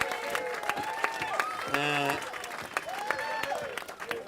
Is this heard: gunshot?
no